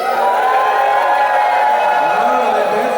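Wedding guests at a ceremony cheering and shaking noisemakers, a loud sustained crowd roar of voices and rattling that fills the whole moment.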